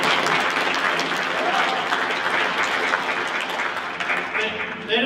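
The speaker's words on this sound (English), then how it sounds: "They don't come out unless there's a really rousing round of applause." A concert audience at a Veterans Day performance breaks into sustained, rousing applause, dense clapping mixed with some crowd voices and cheering throughout.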